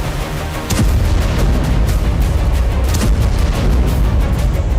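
Drone explosion at a Russian airport in Saratov, from wartime news footage; a sudden loud blast followed by a sustained heavy rumble with sharp crackling bursts.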